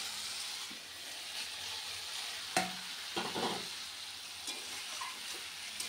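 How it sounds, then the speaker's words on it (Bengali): Spices fry and get stirred in a pan with salt and turmeric, a continuous close sizzle broken by a few scraping stirs of the spoon. "মশলাটা দিয়ে কষিয়েছি, আর নুন হলুদটা দিয়ে দিলাম একেবারে"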